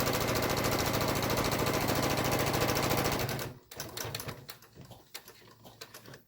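A sewing machine stitches a fabric mask with a loud, rapid, continuous mechanical whir for about three seconds, then stops, followed by quieter clicks and handling sounds.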